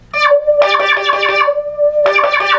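A restored Polymoog synthesizer in single-trigger mode with its filter engaged, a held tone with bright buzzy bursts where the filter sweeps open, two clusters of articulated stabs over a sustained note, loud and close.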